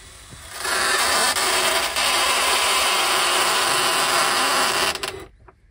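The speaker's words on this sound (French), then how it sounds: "pratique cette petite visseuse, pas besoin de changer l'embout" A small cordless screwdriver drives a screw during drywall and electrical work on a building site. It makes a loud, close, continuous whir for about four seconds and then stops.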